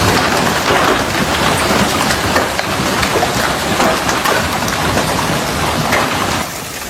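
Heavy rain pounds down in a dense, steady roar during a powerful hail storm over Miami streets, with low thunder rumbling beneath the downpour, loud and continuous until it eases slightly near the end.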